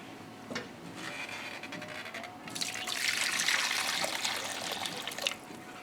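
Tap water runs steadily for washing, a continuous splashing trickle that swells louder midway, close and with no talking.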